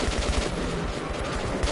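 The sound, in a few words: AK-47 rifle gunfire in video game Metro 2033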